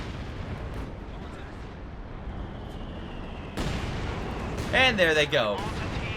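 Mortar and artillery fire in Company of Heroes 2, a 4v4 battle on Essen Steelworks: a steady low rumble of distant shelling builds into a louder burst of impacts near the end, with someone talking over it.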